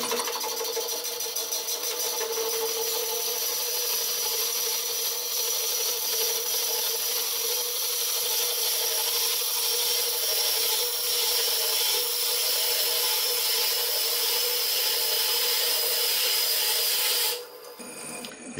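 Wood being drilled on a wood lathe at slow speed, around 150 to 200 rpm, gives a steady, loud grinding and rubbing drone that runs without a break for about seventeen seconds and then drops away near the end.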